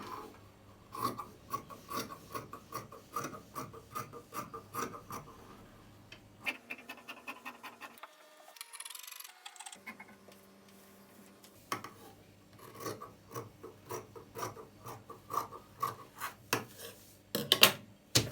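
Fabric being cut out for a garment with an elastic waistband, a close, steady rasping of cutting strokes. A quieter pause comes midway before the scratchy cutting resumes.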